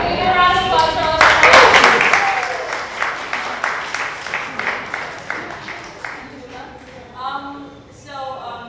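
Audience applause at a poetry gathering, a dense burst of many hands clapping that rises quickly and then thins and fades over several seconds, with voices chattering faintly beneath it toward the end.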